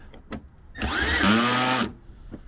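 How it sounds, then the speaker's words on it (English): A cordless impact driver with a clutch drives screws into a Ford truck in one loud, steady burst of whirring lasting under a second, with the pitch shifting as the clutch engages, and a few faint clicks before and after. "that clutch will prevent any over tightening. So that's nice with these little guns"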